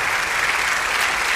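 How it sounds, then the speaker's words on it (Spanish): A church congregation applauds at a sermon, with dense, even clapping from many hands filling the room loudly and steadily, with no speech over it. "Denle un aplauso al Señor."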